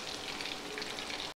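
Chicken sizzles in a pan as it is stirred, a steady crackling fry that stays even and fairly close, then breaks off abruptly near the end, with no voices.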